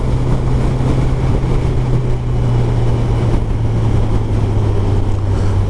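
A 2022 Kawasaki Ninja 1000SX accelerating hard up a highway on-ramp gives a loud, steady low engine drone mixed with rushing wind, holding near and continuous throughout.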